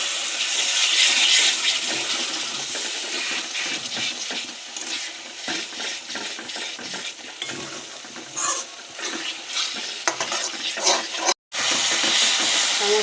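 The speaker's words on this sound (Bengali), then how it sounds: "নাড়াচাড়া করে নিয়ে দিয়ে দেবো একটু জল।" Water goes into a hot pan of sizzling ground spices like cumin and coriander, giving a loud hissing, bubbling rush that settles into steady frying and stirring, cut briefly by a short gap near the end.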